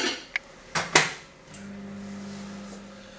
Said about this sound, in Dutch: zet het in de magnetron voor 1 minuut